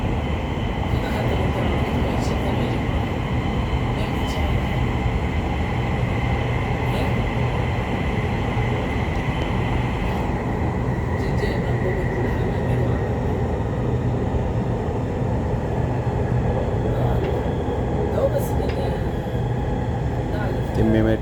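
Riyadh Metro train running underground, a loud continuous rumble and rushing roar heard from inside the carriage with a steady high whine, while a voice talks faintly underneath.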